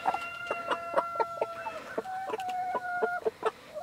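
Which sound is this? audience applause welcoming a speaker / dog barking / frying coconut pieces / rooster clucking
rooster clucking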